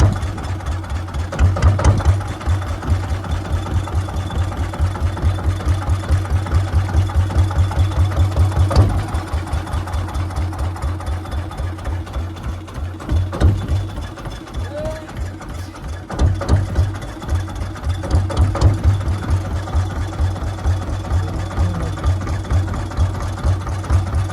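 Fishing boat engine running steadily on a river while out after hilsa, a loud, close, rapid low thumping that holds throughout with slight dips and surges, plus a few faint knocks on top.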